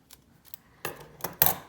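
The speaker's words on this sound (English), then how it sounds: "I'm just cutting the washi." Scissors snip through washi tape in a few short, crisp cuts, close and quiet, with small rustles between the snips and no talking.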